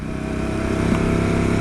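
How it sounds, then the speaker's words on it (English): Harley-Davidson Pan America motorcycle engine on its stock exhaust, a steady loud drone with a strong low harmonic rumble held at an even pitch throughout, running close by with no talk. "trying it with a stock exhaust to see if you get the same sound out of it"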